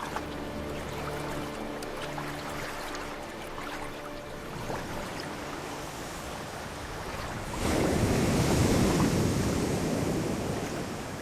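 Rough sea off the Galapagos shore, a continuous roar of surf and wind with waves building to a louder crash near the end, heard alone without voices.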